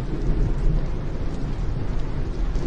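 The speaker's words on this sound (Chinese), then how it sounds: "突然间下这么大的雨，把我给浇死了。" A sudden heavy downpour roars with deep rolling thunder, loud and continuous throughout, with no voices over it.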